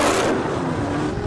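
A Dodge Charger with a 6.4-liter Hemi engine, fleeing police on a highway, roars loudly at speed in a brief, steady, close burst of engine noise.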